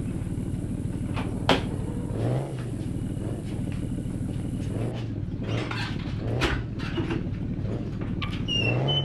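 A door creaks and clunks open amid steady low machine hum, with a few knocks and rattles close by, heard over gameplay of Truckers Simulator Ultimate.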